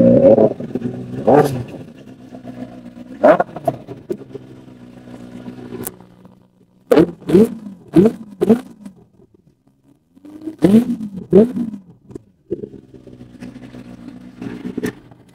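A 2016 Benelli 600 motorcycle with an aftermarket exhaust revving in bursts, sharp throttle blips rising and falling between idle stretches, loud and close with no talking.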